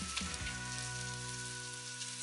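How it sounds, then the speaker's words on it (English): Floured pork chops fry in butter in a pan, giving a steady, close crackling sizzle that runs unbroken from start to finish with no talk over it. "we're frying in butter."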